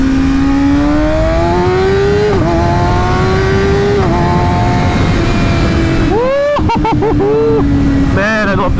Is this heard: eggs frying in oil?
no